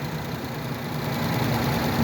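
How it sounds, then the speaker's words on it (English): A 2017 Ford Escape engine idles with a steady, even hum and low rumble that holds throughout, with no talk over it. "Okay, with the motor running."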